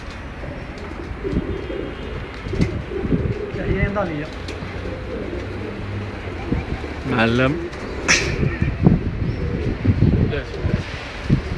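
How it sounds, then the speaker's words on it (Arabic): Pigeons cooing in a flock during a 2011 constitutional referendum gathering in Boujdour, with soft repeated coos and chirps mixed into steady crowd noise and rustling while someone talks nearby. "هاد الحمام هذا كله كيقول نعم للدستور"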